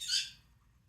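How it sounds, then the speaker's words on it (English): Birds singing outdoors, heard from inside as one brief, faint chirp that fades quickly into quiet. "There's birds outside singing."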